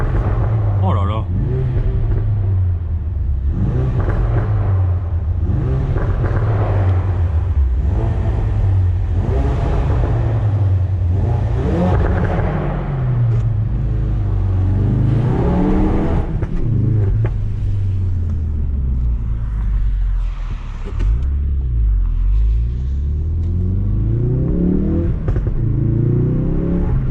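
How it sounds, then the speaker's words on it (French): A 2016 Ford Focus RS with the Performance pack and factory pop-and-bang exhaust accelerates hard through a tunnel, its loud engine rising and falling in repeated revving sweeps with echoing crackles, under a man's excited exclamations. "Cette ligne Pop and Bang d'origine, c'est du gros n'importe quoi les amis."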